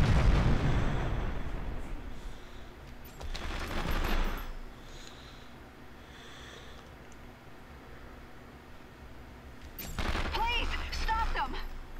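Gunfire and explosive bursts in 24: The Game on PlayStation 2, a heavy blast at the start, another around four seconds and a later burst near ten seconds, over a steady low rumble, moderately loud.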